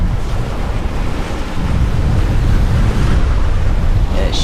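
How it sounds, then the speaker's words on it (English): Ocean waves rolling against a sailboat under way through the Mona Passage, with strong wind buffeting the microphone, a constant loud roar and low rumble throughout and no talking. "Waves are rolling. Boat's rocking."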